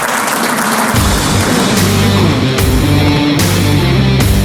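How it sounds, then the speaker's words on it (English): Audience applause fills a room at an evening awards event tied to the Detroit Grand Prix, a steady loud wash of clapping that swells after the first second and carries on throughout with no speech. "give yourself a round of applause"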